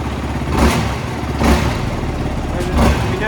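A Yamaha YFZ 450R SE sport quad revving in neutral, three quick throttle blips rising out of a steady idle at an even rhythm, close and loud, with a voice talking over it.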